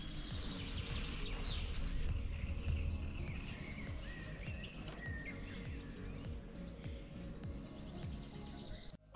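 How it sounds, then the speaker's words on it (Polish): Many birds chirp and sing continuously from the shoreline behind a paddleboarder on a lake. Overlapping calls of varied pitch sit at a moderate distance over soft ambient noise, with no talking. "Słyszycie, jak za mną śpiewają ptaszki?"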